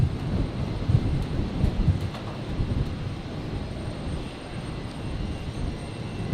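A Qantas airliner, the retro roo livery on flight 941 to Perth, takes off from runway 01 right on a stormy evening at Brisbane, its deep engine roar steady and distant.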